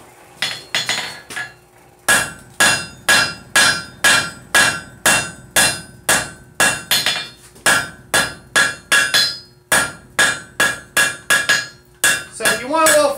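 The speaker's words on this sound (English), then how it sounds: "we're going to get this forged out a little bit" A hammer strikes hot metal during forging, landing about two dozen sharp, ringing blows in a steady rhythm with a brief pause near the start, loud and close with no talk.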